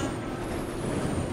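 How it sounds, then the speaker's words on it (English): A train approaching in the Resident Evil 6 video game, a steady low rumble of rolling rail noise that holds at an even, fairly quiet level throughout. "There's a train coming."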